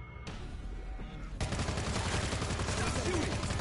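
Rapid automatic gunfire from the video game World War Z, a dense rattling fusillade that grows heavier partway through and continues without pause, loud and close.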